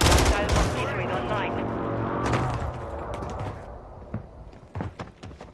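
Rapid gunfire from a gun in a Walking Dead-themed shooter video game, a dense, loud volley of shots with a brief pause, then scattered sharp cracks trailing off.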